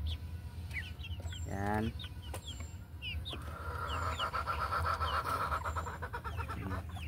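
Young hybrid pullets cluck and call close by in a short run of repeated vocalizations, with a voice speaking briefly among them.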